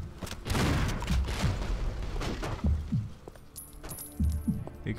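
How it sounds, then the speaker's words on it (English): Explosions sound in the Painkiller first-person shooter game, a series of several short booming blasts and thuds scattered across the clip with debris clatter, moderately loud and without speech. "Explosions."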